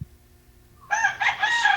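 A rooster crows close by, a loud strained cock-a-doodle-doo rising after a quiet moment and holding to the end, with no other sounds around it.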